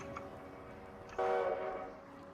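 A video-game train horn sounds in a steady, harmonic tone that swells suddenly louder partway through, over a low rumble.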